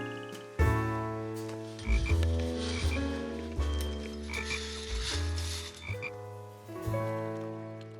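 Cartoon frogs croaking in a pond, a loud chorus of deep, resonant, tonal croaks in rhythmic bursts, close and alone, with no voices.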